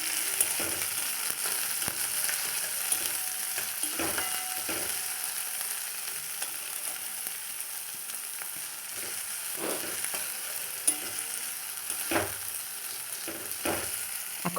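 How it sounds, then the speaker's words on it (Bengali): Chopped onion and tomato frying in a pan for masala Maggi noodles, a steady close sizzle broken by repeated scraping and stirring knocks of a spatula, without speech. "এখানে আমি পেঁয়াজটা খুব বেশি পরিমাণে ভাজবো না, এর মধ্যে দিয়ে দিলাম টমেটো কুচি।"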